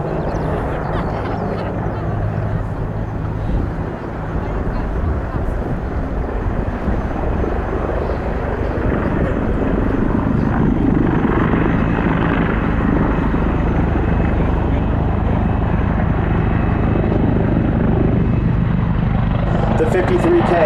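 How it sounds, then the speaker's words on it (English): A Sikorsky CH-53K King Stallion heavy-lift helicopter of the US Marine Corps flying a demo at an air show, its big rotor and powerful new engines making a loud, steady roar and thump throughout, with a commentator talking over it. "wir haben jetzt sehr schön in der Plattform den großen Rotor gesehen, der natürlich diese immense Power dieses neuen Triebwerks nutzt"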